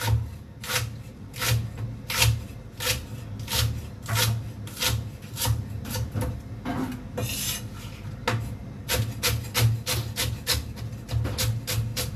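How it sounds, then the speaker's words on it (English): Cabbage being sliced into shreds for Japanese curry udon, a steady run of crisp knife chops against a wooden board, evenly paced and close, with a brief pause partway through. "And some cabbage. Cut into shreds."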